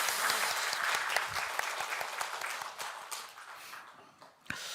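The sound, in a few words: congregation applause in church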